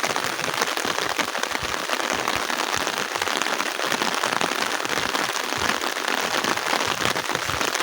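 Morning rain falls on a rural village in West Java, a dense, even hiss of drops on roofs and ground that continues steadily and close throughout, with no voices.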